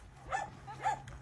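Shy shelter puppies being leash-trained give two sharp, fairly close barks about half a second apart over steady low background hum.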